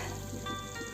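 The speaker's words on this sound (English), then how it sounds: "Keep on frying this by stirring continuously" Cottage cheese frying with a little sugar in a pan over a medium flame, giving a soft, steady sizzle that lasts under a second with no talking.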